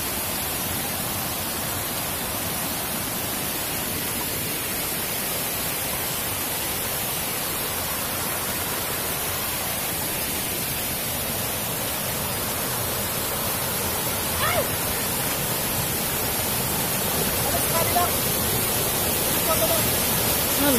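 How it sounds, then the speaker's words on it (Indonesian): Pujujurung waterfall in Mentawai, a steady broadband roar of falling water filling the whole clip at close range, constant and loud with slight swells near the end and no clear talk over it. "Inilah yang dibilang air terjun."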